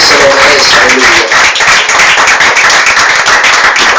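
A church congregation claps loudly and rhythmically near the microphone, with voices mixed in and a dense, sustained roar of applause throughout.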